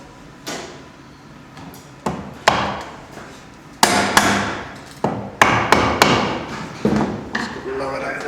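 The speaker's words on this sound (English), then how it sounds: "Then we chop it out like your hinge." A hammer striking a chisel to chop a mortice lock recess into wood: a series of loud, sharp knocks at an irregular pace, close by, with some faint speech in between.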